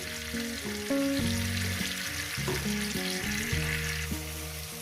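Rui fish pieces and potatoes dusted with turmeric fry in hot oil, giving a steady, close, loud sizzle throughout, with a melodic music track playing over it.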